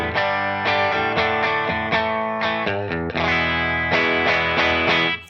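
An electric guitar runs straight into an amp with every pedal bypassed, playing a dense, sustained stream of driven chords and notes that ring continuously, loud and close, with no talking.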